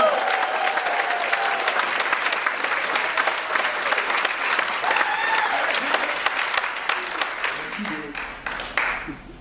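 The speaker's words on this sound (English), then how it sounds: "I want to keep your hands clapping right now for Miss Leslie Battle" An audience at a comedy festival gives a comedian steady, dense applause with some cheering and voices, thinning into scattered claps near the end.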